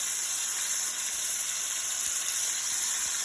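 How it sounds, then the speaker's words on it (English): A chuck roast sears in a hot pan with a steady, bright sizzle, close and constant throughout, with no talking. "I'm gonna start searing this"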